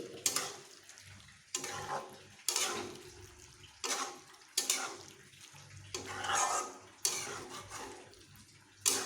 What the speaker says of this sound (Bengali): আমি জলের সঙ্গে ভালোভাবে মিশিয়ে নিচ্ছি